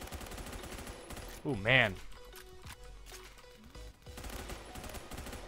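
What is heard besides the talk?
M4 rifle gunfire in the video game Phantom Forces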